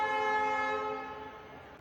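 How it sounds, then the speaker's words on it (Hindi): An Indian Railways express train, the Vishwamanava Express, departs from a station bound for Mysore, sounding a steady horn that fades as the train pulls away, with no talking. "तो गाइस हमारी ट्रेन जाते हुए मैसूर की तरफ।"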